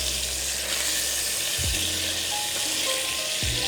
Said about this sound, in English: For the time being, we're just searing our chicken.